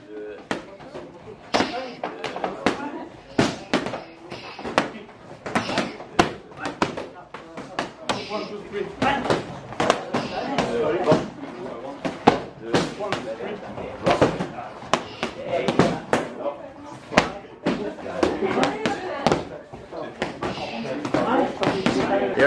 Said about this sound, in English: gonna have the guys hit pads a little bit, do a couple rounds each